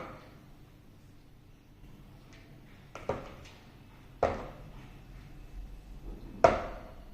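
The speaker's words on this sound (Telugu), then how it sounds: "ఇదిగోండి నేను ఒక డజన్ కాయలు కోసేస్తున్నాను" A knife chops lemons for pickle, heard as a few sharp, separate knocks on a cutting board spaced a second or two apart, close and otherwise quiet.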